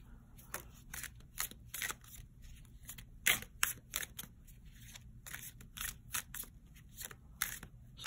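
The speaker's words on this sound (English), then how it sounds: "I'm gonna pull 4 cards." Tarot cards are drawn one by one from a deck, giving a quiet series of short crisp card snaps and slides at an irregular pace, with faint room hiss between them and no talking.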